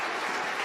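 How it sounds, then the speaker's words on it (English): Applause in SpaceX mission control after a Falcon 9 first stage landing on the Iridium-3 mission, a brief steady wash of clapping at moderate distance. "You can hear from the applause"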